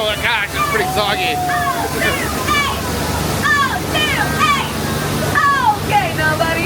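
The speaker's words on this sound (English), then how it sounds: "is that waterfall getting a little soggier?" A waterfall on the Magic Kingdom Jungle Cruise ride roars steadily and loudly, with a crowd chattering and calling over the rushing water throughout.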